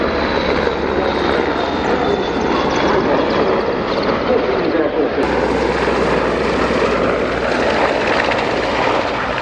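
A Leonardo aircraft makes its final flypast at the Royal International Air Tattoo air show, a loud, continuous engine roar filling the whole stretch, with a public-address voice talking over it.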